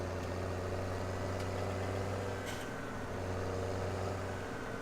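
A tractor engine idles steadily in Farming Simulator 2017, giving a low, constant drone with a few faint ticks on top, unchanging and alone without speech.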